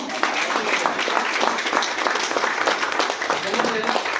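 Audience applause fills a business plan presentation hall, a dense, steady wash of many hands clapping that holds at an even level throughout, with no clear pauses.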